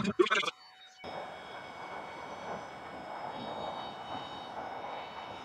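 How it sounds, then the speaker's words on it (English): An automatic electric pump inflates an inflatable paddle board with a steady, droning motor whir. A short burst of other sound comes first, then the whir runs evenly at moderate volume to the end. "The raft is completed by the automatic pump."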